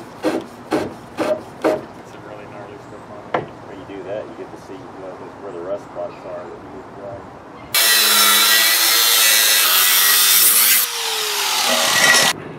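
A really thin DeWalt DW8725 cutting disc bites into material with a loud, steady, harsh grinding whine lasting several seconds, after a stretch of knocks and scraping, while someone talks.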